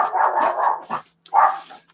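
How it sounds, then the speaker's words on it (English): A dog barks close by in a quick run of loud, rough barks, then falls silent briefly before one more short burst of barking. "And there goes the dog again."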